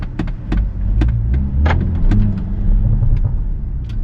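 A BMW X1 with a 7-speed dual-clutch gearbox running in sport mode gives a steady, low throbbing engine rumble, interrupted by faint clicks and small mechanical knocks, with no talking.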